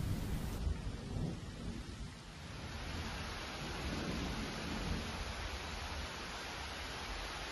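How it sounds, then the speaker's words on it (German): A thunderstorm over Bad Krozingen in southern Baden: steady, dense rain hiss with a low, rolling rumble throughout, loud and continuous with no voices. "filmte das Gewitter über Bad Krozingen."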